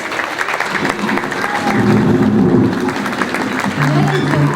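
Audience applause at the Yılın Starları 2023 awards ceremony in Turkey as the athlete of the year award goes to Mehdi Karimi; steady clapping from a crowd with some voices and background sound mixed in.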